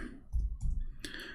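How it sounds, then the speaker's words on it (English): A few keys are struck on a computer keyboard, with two or three dull low clicks followed by a sharper tap, close and fairly quiet, with no talking. "if we type the word ahad here, and I will type it in front of you"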